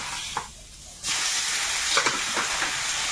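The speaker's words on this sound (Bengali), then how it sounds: "মাছগুলো দিয়ে দেবো তেলে" Pieces of a large fish drop into hot oil in a wok. After a short quiet lull, a loud, broad sizzling hiss bursts in and keeps going, close and strong.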